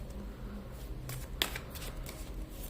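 Tarot cards being shuffled during a card reading, a soft riffling rustle with one sharper snap near the middle, heard close against faint background hum.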